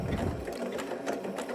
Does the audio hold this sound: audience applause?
no